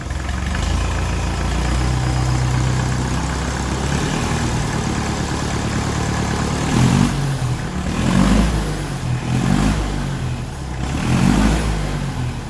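A 1954 Ferguson TEF 20 diesel tractor engine chugs steadily at idle nearby, then is revved up in several swelling bursts before settling back each time.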